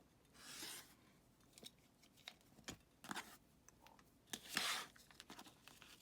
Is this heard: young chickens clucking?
no